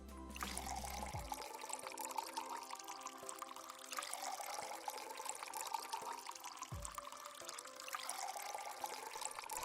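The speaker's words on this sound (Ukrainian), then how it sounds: "Наливаємо молоко" Milk pours steadily in a continuous trickling stream in a video game puzzle, with a brief break before the flow resumes, over a constant background hum.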